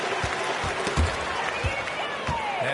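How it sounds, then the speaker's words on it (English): A virtual arena crowd in NBA 2K24 roars and applauds after a spectacular play, a broad wash of cheering under rhythmic thumps, with a commentator's voice running over it. "And the crowd got their jaws dropped on that one."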